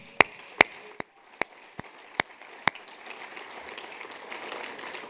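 A few sharp, separate claps ring out one at a time at an award ceremony honouring Roger. They are spaced about half a second apart and then fade into faint room noise.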